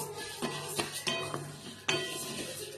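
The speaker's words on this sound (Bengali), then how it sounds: "আমি ডালটাকে অল্প ভেজে নেব।" Lentils (dal) being lightly dry-fried in a pan for semolina khichuri: a utensil scrapes and taps against the pan in a few distinct stirring strokes, with faint sizzling and rattle of grains, close and fairly quiet, no talk.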